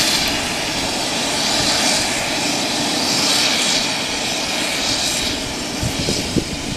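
Loud, sustained roar of a jet airplane engine powering up at Aurora Municipal Airport, a steady broadband rumble and whine that holds throughout with slight swells, heard alone without talk.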